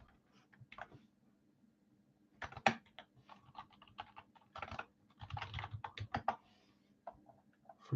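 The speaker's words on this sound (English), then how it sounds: "Forgive my typing." Typing on a computer keyboard, quiet and close, with irregular bursts of rapid key clicks separated by short pauses over about eight seconds and no voices.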